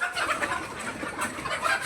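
Kadaknath chickens and egg-laying hens cluck continuously close by, a busy overlapping chorus of short calls from several birds in a coop.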